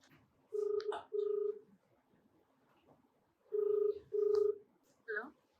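A telephone call being placed, heard as two pairs of ringback tones spaced apart. Each ring is a clear, moderately loud electronic tone, and a brief voice follows at the end.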